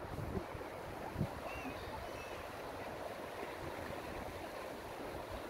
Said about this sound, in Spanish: Oír ese sonido del río.